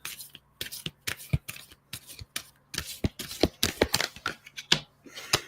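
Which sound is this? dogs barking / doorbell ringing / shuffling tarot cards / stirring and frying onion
shuffling tarot cards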